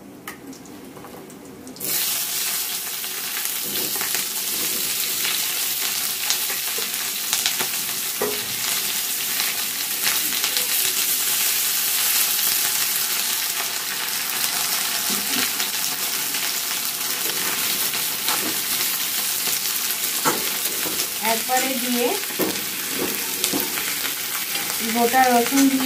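Chopped onion hits hot oil seasoned with cumin seeds, and crushed garlic and ginger go in too. A loud, dense sizzle starts abruptly and then holds steady at close range, with occasional stirring scrapes and no talking.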